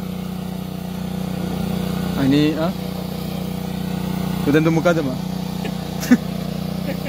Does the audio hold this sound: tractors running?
yes